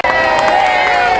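Crowd cheering and applause at a Hollywood Walk of Fame ceremony for Mark Harmon in Los Angeles, a loud, dense outdoor roar of voices and clapping with a steady tone running through it.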